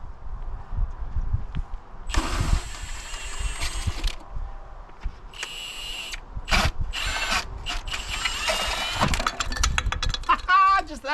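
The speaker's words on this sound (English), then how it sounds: "Then I'll use my impact to just slowly spin them off." An impact wrench slowly spinning parts off in an oily engine bay, heard as several short bursts of whirring and ratcheting rattles in a row, separated by pauses with faint background noise.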